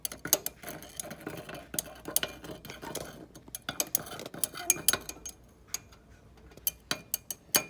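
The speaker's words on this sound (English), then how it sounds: "I'm gonna go ahead and use the thermometer just to stir." A thermometer stirs a cloudy powder sample in a lab beaker, giving irregular light clinks and ticks of glass against glass. The taps come close and fairly quiet, in uneven bursts, and no one speaks.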